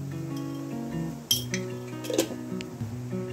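A metal spoon clinks against a pot while salt goes into boiling water with soybeans, a few sharp bright taps and scrapes over a bubbling, simmering background, close and alone without speech.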